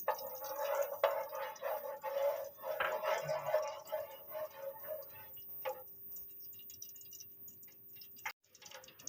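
Green cardamom and cloves hit hot oil in a pan, giving a close, crackling sizzle with scattered pops that gradually settles toward quieter frying.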